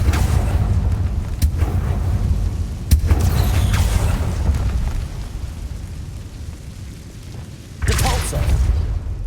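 Confringo fire spell blasts from the wizard combat of Hogwarts Legacy, with loud booming bursts near 0, 1.4, 2.9 and 7.9 seconds over a constant rumbling game soundscape.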